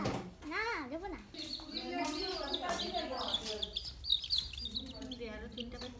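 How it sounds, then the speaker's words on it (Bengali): A red hen clucks in a village yard, with several bursts of fowl calls heard close by under steady chatter from adults and a child. "লাল মুরগি"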